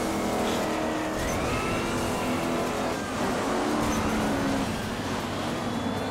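Race car engine from the off-road racing video game MotorStorm Pacific Rift, a loud, continuous roaring drone that briefly dips, then surges again, with tire noise mixed in.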